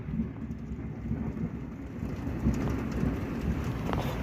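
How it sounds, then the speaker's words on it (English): A thunderstorm in New York brings steady, heavy pouring rain with a low rolling rumble of thunder beneath it, dense and continuous throughout with no voices. "I just hear thunder. And then just pouring rain like 10 seconds later."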